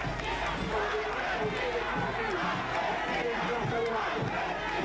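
A large crowd in Buenos Aires outside the Casa Rosada cheers and chants for Argentine president General Leopoldo Galtieri, a dense continuous roar of many voices with rhythmic shouted bursts, a commentator's voice speaking over it.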